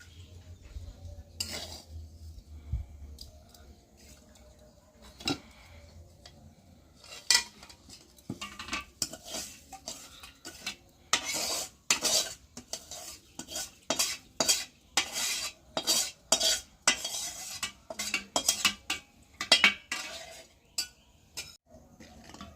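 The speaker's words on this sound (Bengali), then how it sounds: "হাঁড়ির জলটা গরম হয়ে গেছে, আমি এবার ডালটা যে নেড়ে রাখছিলাম ওইটা এখন দিয়ে দিচ্ছি।" Lentils for khichuri go into hot water in a pot and are stirred, making a long run of close metallic scrapes and clinks of a utensil against the pot, some in rapid bursts, with faint simmering underneath and no talk.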